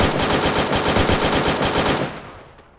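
Rapid automatic gunfire in the battle royale video game Free Fire, a dense burst of shots lasting about two seconds before cutting off, loud and alone.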